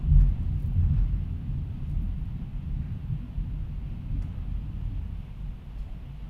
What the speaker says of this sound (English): Thunder's still going.